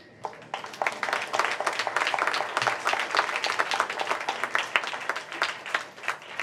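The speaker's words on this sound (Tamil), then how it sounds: "ரொம்ப நாளாச்சு இந்த கைத்தட்டல் கேட்டு" A theatre audience applauds warmly after a stage play, dense sustained clapping from many hands filling the hall throughout, steady and fairly loud with no speech over it.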